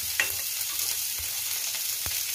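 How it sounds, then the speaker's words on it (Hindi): Onion and capsicum frying in a pan make a quiet, steady sizzle with a few soft stirring knocks and scrapes near the start and end. "अब मैं इसमें प्याज और ये शिमला मिर्च भून लेती हूँ।"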